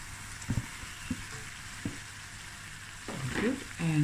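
Chicken pieces tipped into a hot pot for chicken akhni, giving a low frying sizzle with a few sharp clatters and scrapes, then a louder burst of sizzle near the end; no talking.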